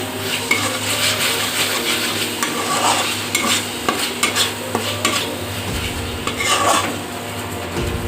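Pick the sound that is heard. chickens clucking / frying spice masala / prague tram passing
frying spice masala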